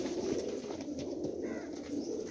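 Domestic pigeons kept in a loft in Jhelum coo continuously, a steady low throaty murmur from several birds close by, with faint chirps over it.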